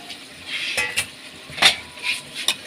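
Chicken liver frying in a pan of cooked-down spice paste, a soft steady sizzle broken by several sharp scrapes and clinks of a utensil stirring against the pan.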